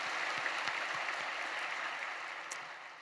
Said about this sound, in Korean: 귀한 찬양으로 은혜를 주신 겟세마네 찬양대에게 뜨거운 감사의 박수 한번 주시겠습니다